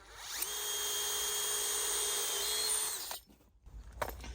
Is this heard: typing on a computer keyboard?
no